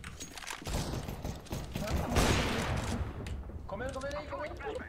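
Bursts of gunfire from a tactical shooter video game, including sniper rifle shots, crackle loudly through the clip amid dense game noise, with a player talking over it near the end.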